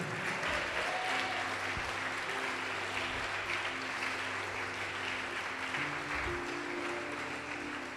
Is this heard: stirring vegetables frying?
no